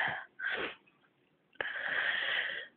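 A person sneezes indoors: two short breathy inhalations, then a sudden sharp burst that trails into a long hissing exhale, close and fairly loud, with no talking.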